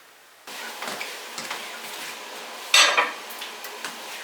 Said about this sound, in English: I'm going to get the rest of these dishes done up